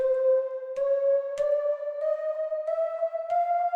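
A synth tone played from pads in chromatic mode steps upward note by note in small semitone increments, each new note marked by a soft click, sustained and clean.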